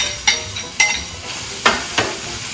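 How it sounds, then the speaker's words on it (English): Onions frying in a preheated electric oil pot give a steady sizzle, broken by four sharp scraping stirs of a utensil against the pot, close up with no talk. "I have preheated my electric oil pot, so I'll go ahead and do my onions."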